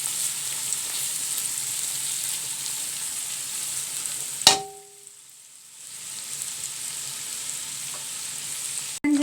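Vegetables sauté lightly in oil in a pan for spaghetti, a steady soft sizzle that cuts out abruptly after a clank midway, then resumes quietly.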